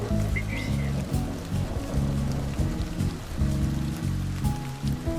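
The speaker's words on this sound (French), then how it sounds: "le clapotis des gouttes dans les récipients alignés" Raindrops splash steadily into a row of containers, a continuous patter with scattered brighter drips, heard under soft background music.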